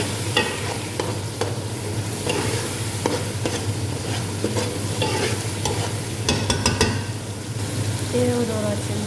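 Chicken pieces sizzle and fry in a hot pan for kabsa while a utensil stirs and scrapes them in repeated strokes, close up over a steady crackle.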